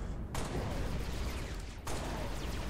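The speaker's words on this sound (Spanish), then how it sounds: "7 tiros con la Magnum a su cabeza y lo vamos a matar" Magnum pistol fire in Halo Reach on Legendary difficulty comes as a dense, continuous blast of shots. A brief gap falls near the start, and the loud, sustained gunfire resumes after a short dip late in the clip, with no talk over it.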